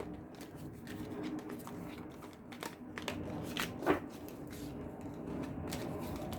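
Tarot cards are shuffled by hand in a series of soft, papery riffles and slaps. A sharper flick comes partway through, over a faint room background.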